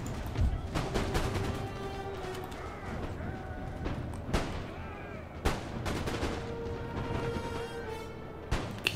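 Scattered pistol and musket fire during a Napoleonic-era battle in Empire: Total War, sharp distant cracks popping irregularly over a busy rumbling battlefield din, with occasional hoof clatter.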